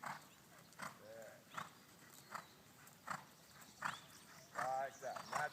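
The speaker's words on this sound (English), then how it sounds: "Now notice as he's trotting here, this is a good working trot for this horse." A horse trotting on the lunge while fitted with a Chambon makes faint, regular hoofbeats at a steady working-trot rhythm. A person speaks over the hoofbeats throughout.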